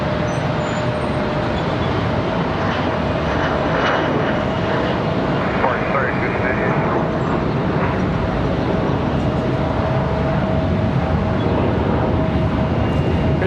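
A Delta CRJ jet airliner arriving at Charlotte Douglas airport, producing a loud, steady engine roar with a faint whine throughout.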